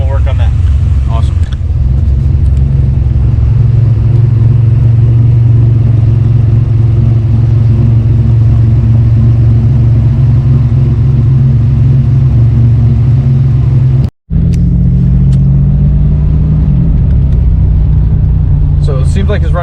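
A 1993 GMC Typhoon's engine idles steadily in a low, loud rumble, with a brief cutout partway through, while people talk over it.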